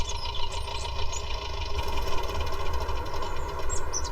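A farm tractor, a 996, idles steadily in a field during spraying work, a continuous low mechanical rumble with a faint knocking pulse and no speech.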